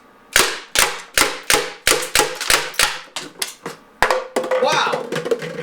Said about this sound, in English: So let's empty 8 shots and see what happened.